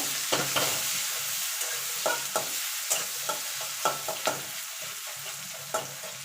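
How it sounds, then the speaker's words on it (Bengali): Chopped onion fries in a pan under a soft, steady sizzle, broken by a dozen sharp scraping taps as a spatula stirs it at an irregular pace, close and clear. "পেঁয়াজটাকে এবার লাল লাল করে ভেজে নেব"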